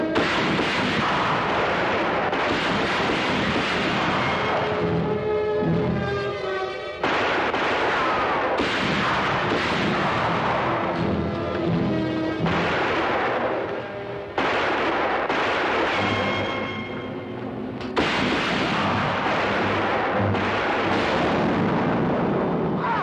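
Rifle shots and ricochets ring out in a Western TV gunfight. Repeated loud reports come at irregular intervals with whining echoes and rock impacts in between.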